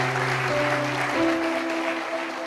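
A church congregation at a Sunday celebration service breaks into brief, full-room applause, a close, even wash of clapping over a held musical tone.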